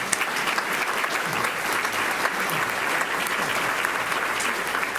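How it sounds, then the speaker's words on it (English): An audience at a Columbus Metropolitan Club panel on the opioid crisis applauds the panelists, a dense, even clapping from a full room that stays loud and unbroken throughout. "Let's give them a round of applause."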